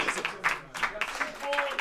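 An audience at a French rap radio session claps in a short, scattered burst of applause, with voices talking over the clapping.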